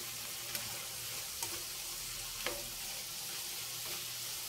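Adobong sitaw, string beans adobo with a little dried fish and chicken cubes, frying in a pan, a steady hiss of sizzling with a few faint utensil ticks, continuous and close.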